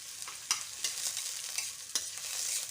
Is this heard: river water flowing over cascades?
no